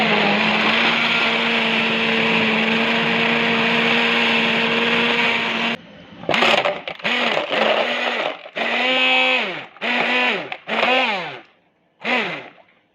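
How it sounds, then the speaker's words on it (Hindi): A kitchen blender whirs steadily, loud and close, blending batter for tamarind and apricot chutney, then runs in short stop-start pulses with rising whines as it spins up each time. "इसको भी मैं ब्लेंड करूंगी।"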